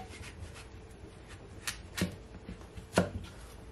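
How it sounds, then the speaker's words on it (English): A knife cuts through a cucumber on a cutting board, with a few distinct sharp chops against the board amid quiet background noise. "So I'm just start off by cutting up my cucumber, and I'm just gonna cut it in 2."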